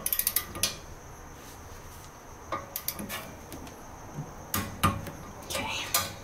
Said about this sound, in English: we're going to torque those bolts to 50 foot-pounds.